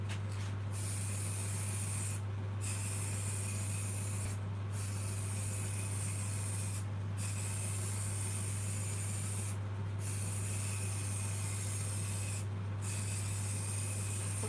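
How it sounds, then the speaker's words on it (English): A steady hiss of acrylic sand sealer aerosol spray runs continuously over a constant low machine hum, with short gaps roughly every few seconds where the spraying pauses. "now I'm going to place on some acrylic spray-on sand sealer"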